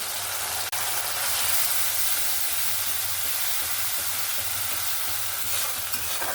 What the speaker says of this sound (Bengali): এবার যে মশলাটাকে আমি বেটে রেখেছিলাম, আদা, পেঁয়াজ আর রসুন, সেটা এখানে